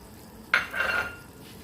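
Shrimp and a chili dropped into a hot pan, a sudden bright sizzle that swells for about half a second and then fades away.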